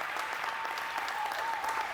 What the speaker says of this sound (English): Come on, clap your hands, clap your hands, clap your hands.